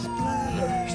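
A voice imitates a police siren during family pretend play, a sustained, wavering wail at close range, alone for about a second.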